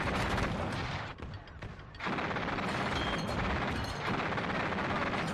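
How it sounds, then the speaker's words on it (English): ZU-23-2 anti-aircraft cannon and machine gun firing in the WARNO strategy game, a dense continuous clatter of rapid bursts with a brief lull near the middle, fairly distant and moderate in level. "Like the ZU-23-2 plus the machine gun seemed to rip through infantry really, really nicely."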